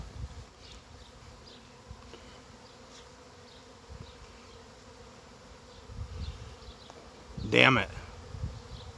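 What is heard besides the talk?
honeybee swarm buzzing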